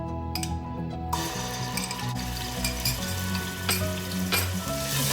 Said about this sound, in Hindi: इसमें मैं 1 कप ऑयल लूंगी और इसमें लहसुन अदरक डालकर उसको सौते करूंगी थोड़ा सा।